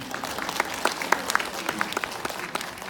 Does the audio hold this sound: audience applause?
yes